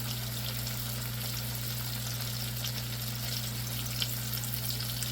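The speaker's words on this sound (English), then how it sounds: "Now you're supposed to let these go away from you when you cook them, so the oil doesn't splash on you." Gluten-free chicken nuggets fry in hot oil, giving a steady, close sizzle with a constant low hum beneath it and no speech.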